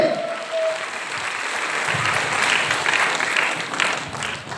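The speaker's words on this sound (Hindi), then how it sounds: "जोरदार ताली होनी चाहिए" Sustained applause from an audience at a business seminar held at a resort, a steady broadband clatter of many hands lasting the whole stretch with no speech over it.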